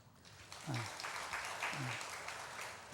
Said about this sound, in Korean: 여러분 수고하셨는데 수고하셨다고 우리 여자분들 격려 박수 한번 보낼까요?